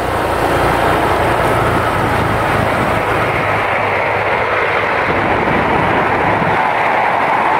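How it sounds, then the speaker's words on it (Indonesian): A train rolls past close to the railway track, a loud, steady rumble that fills the whole stretch with no voices over it. "Nah itu ada suara kereta lagi ya teman-teman ya."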